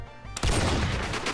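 Gunfire breaks out in the Rimworld video game, a loud rattling burst of rapid overlapping shots that starts abruptly and keeps going without a pause.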